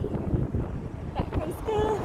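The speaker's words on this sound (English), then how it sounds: "It is very windy." Gusty wind buffets the microphone with a low, uneven rumble while voices talk nearby.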